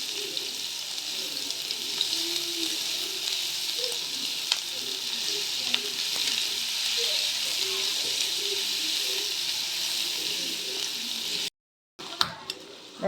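Onion and garlic sizzle and fry in a pan for an eggplant dish, a steady hiss with small pops and the scrape of stirring, which drops out briefly near the end.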